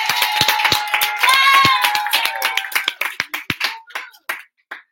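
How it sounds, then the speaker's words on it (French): A small group of people in a room clap, starting dense under a speaking voice, then thinning to a few scattered, close claps that stop. "il y a des gens dans la pièce, donc on va tous les applaudir"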